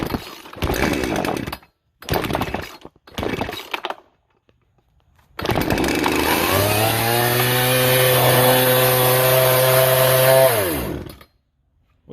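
A chainsaw sputters through several short pull-start attempts, then catches and runs steadily for several seconds, engine revving up with a loud sustained whine before cutting off, following a tensioner repair.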